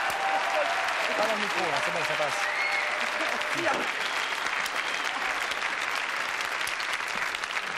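Sustained studio audience applause on a French television talk show, with dense clapping throughout. A voice talks over it near the start.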